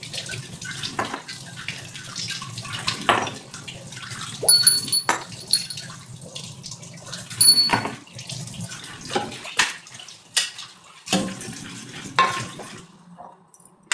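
Water splashes and trickles in uneven bursts as small brass deity idols are washed by hand during a home puja, with clinking and sloshing close by and no talking.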